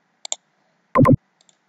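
Two quick pairs of sharp computer mouse clicks, close and crisp, separated by a brief louder burst of another desk sound, then a couple of faint clicks trailing off during work in Cricut Design Space on a PC.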